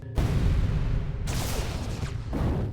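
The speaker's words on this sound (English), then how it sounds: "That explosion is clearly very different, displayed by the use of electrical visuals and electric sound effects." Cartoon explosion from Adventure Time: Distant Lands with crackling electric effects, a loud low boom rumbling throughout, with bright buzzing bursts layered on top, heard alone.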